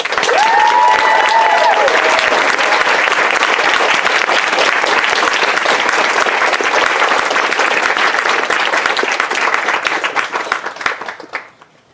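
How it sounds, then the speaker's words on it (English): A graduation ceremony audience at Besant Hill School applauds faculty and staff in a loud, sustained wave of clapping with a few whoops early on, then it tapers off and stops. "let's give them a big round of applause"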